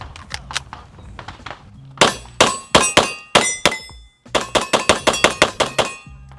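A pistol fires at steel targets at a shooting match. Shots ring out with sharp metallic clangs, first in scattered hits and then in fast, evenly spaced strings of rounds, loud and close, with no voices.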